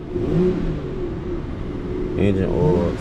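A BMW V12 engine revs loudly nearby with a smooth rising drone, then a second rev swells near the end while a person talks over it.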